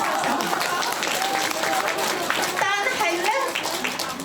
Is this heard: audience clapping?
yes